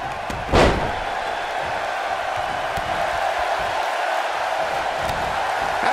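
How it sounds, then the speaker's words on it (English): A pro wrestler is slammed onto the ring mat at a WCW Starrcade match. A single heavy thud lands early and then gives way to a steady roar from the arena crowd. "Slammed with authority."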